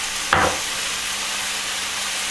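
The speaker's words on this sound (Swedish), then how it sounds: "då börjar det steka här" Meatballs with green and yellow vegetables frying in a pan for a lime couscous dish give a loud, steady close sizzle and hiss, with one brief stirring scrape near the start.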